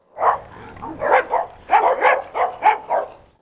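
A Doberman barks in a quick series of about eight sharp, loud, close barks, some grouped in pairs, with no talk over them.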